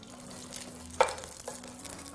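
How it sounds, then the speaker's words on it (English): Vegetables stir-frying in a little oil in a heated pan make a quiet, steady sizzle, broken by one sharp clatter of a utensil against the pan midway, with no voices. "I already have a heated pan. I'm just gonna add a little bit of oil. Just a little. And then I'll stir fry my vegetables."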